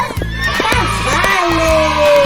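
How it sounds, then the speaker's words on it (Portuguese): A horse gives a loud, close whinny with a wavering, descending pitch, layered over rhythmic pulsing background sounds and voices. "cavalo."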